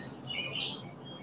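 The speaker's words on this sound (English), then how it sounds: "I think you can hear the birds." Birds sing on a morning, with short, faint high chirps and tweets over a soft background hush, heard from a distance in one brief moment.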